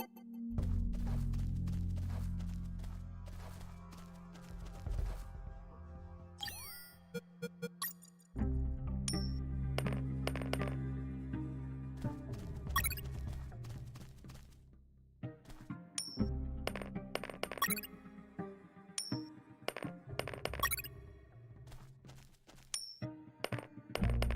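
Coins drop and clink on the ground in the video game Unmetal, a scattering of bright metallic chinks and pings over a steady low game music bed, recurring in clusters throughout.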